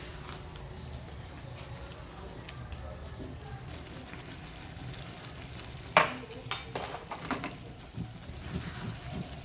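Chicken cubes frying in a pan for curry, a steady low sizzle throughout, then several sharper scraping stirs near the end, close and fairly quiet.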